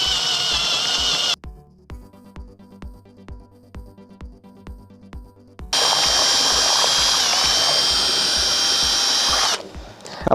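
Loud motorised whir of a blender mixing watermelon juice, starting in a short burst, pausing while sharp mechanical clicks tick in a steady rhythm, then roaring again for several seconds before cutting off.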